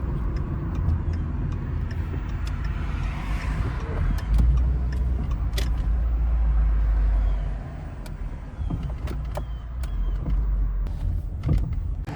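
A Ford Focus pulls in and slows, its engine and road rumble steady and close with a heavier low surge midway, then easing off, with faint clicks and ticks scattered throughout and no talking.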